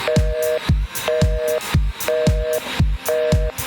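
A telephone busy signal pulses on and off at an even half-second rhythm, four beeps over steady mechanical clicking.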